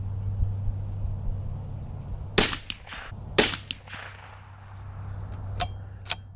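A CZ 457 Varmint precision chassis rifle fires several sharp, spaced cracks over a steady low outdoor hum, the shots loud and abrupt with quieter snaps trailing between them.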